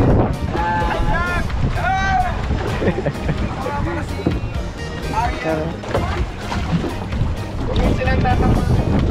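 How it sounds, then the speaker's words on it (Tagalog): Boats maneuver among the Hundred Islands, their engines churning in a continuous loud rumble mixed with wind buffeting the microphone, while people talk over the noise throughout. "Ganyan pala magmaniobra ng mga bangka."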